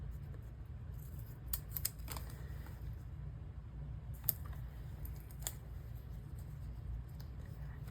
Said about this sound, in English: And then I'll just cut this here.